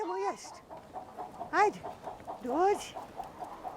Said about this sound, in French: Seules quelques poules se sont habituées aux rochers arides.